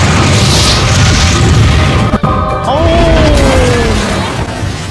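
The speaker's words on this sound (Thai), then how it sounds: "เฮ้ยมันระเบิดหายไปแล้วอ่ะ" A loud boom with a crashing burst cuts through dense, noisy Roblox game sound effects, and a voice briefly exclaims near the middle.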